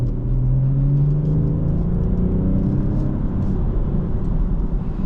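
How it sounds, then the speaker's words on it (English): A 2024 BMW M440i Gran Coupe xDrive engine revs up steadily, its rising harmonic drone loud and close, with a constant deep rumble underneath. "I love the way this engine sounds."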